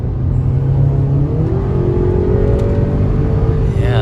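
A 2021 Acura RDX A Spec pulls hard uphill out of a turn, its engine note climbing steadily in pitch as it revs out in gear, loud and close inside the cabin with road rumble underneath.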